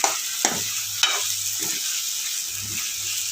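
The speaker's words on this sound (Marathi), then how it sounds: "तर आपण आता जरा मसाला परतून घेऊया" Masala sautés and sizzles steadily in a pan for a potato curry, a continuous close frying hiss broken by a few scraping stirs of a spoon, with no talking.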